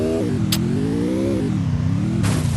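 A sports car in Free Fire drives with a steady mid-pitched engine drone that rises and falls as it revs, close and continuous, with two brief hissing bursts over it.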